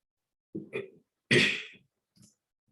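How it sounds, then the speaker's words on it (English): Two harsh coughs, a short one then a stronger, longer one, followed by a faint small cough, close by with silence between them. "I'm sorry, I'm coughing so much."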